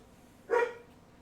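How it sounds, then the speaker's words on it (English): A dog barks at the door indoors, giving one short, sharp bark of moderate loudness against a quiet background. "He's barking at the door."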